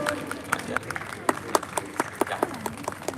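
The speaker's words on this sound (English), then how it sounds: "Manoj ji from Amul, can we have a round of applause for him?" A literature festival audience claps in a short burst, with distinct sharp hand claps popping out over a soft crowd murmur at moderate distance.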